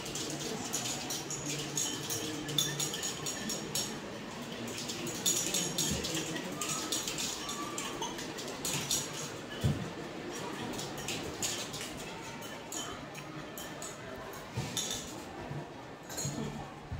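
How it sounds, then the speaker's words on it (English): A glass rod stirs and dissolves solute in about 50 ml of water in a beaker, making light, repeated clinks and taps against the glass over a continuous low background hiss. "Now we will use glass rod for dissolving it."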